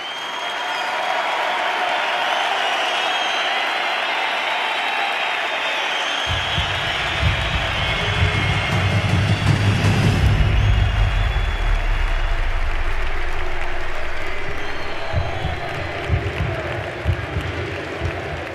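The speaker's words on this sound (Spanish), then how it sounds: "un fuerte aplauso" An audience at the Madrid Economic Forum bursts into sustained applause for a speaker arriving to give a talk, a dense wash of clapping that swells and then tapers toward the end.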